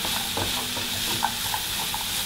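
Bulgarian bell peppers and chili peppers sizzle in a pan for a soup base, a soft steady frying hiss with occasional light stirring clicks.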